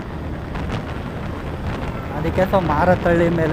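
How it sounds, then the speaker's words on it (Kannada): Strong wind roars and buffets the microphone in a steady broadband rush while a delivery rider heads toward Marathahalli, Bengaluru, and a voice talks over it toward the end. "ಗಾಳಿ ಬರ್ತಾ ಹೆವಿ ಆಗಿದೆ ಗುರು"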